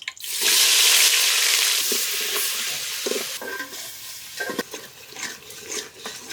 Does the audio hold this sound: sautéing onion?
yes